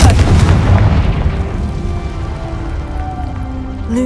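Confringo spell explosion in a video game, a single heavy boom at the start that rolls off into a long rumbling, crackling decay, loud and close.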